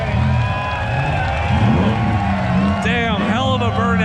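Spectators at a burnout competition at a Cleetus and Cars event in Bradenton cheer, whoop and shout loudly and continuously around a Mustang, with a car's engine drone underneath and a bright shout near the end.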